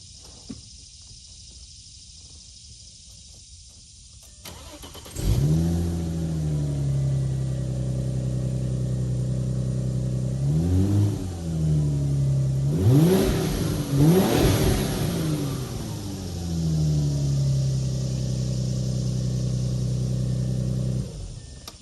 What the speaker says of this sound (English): this is the exhaust with just the resonator, no mufflers